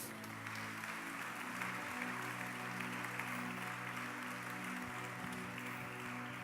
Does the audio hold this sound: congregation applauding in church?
yes